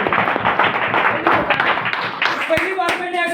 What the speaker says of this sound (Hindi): एक बार जोरदार ताली चाहूंगा मैं तमाम लोगों को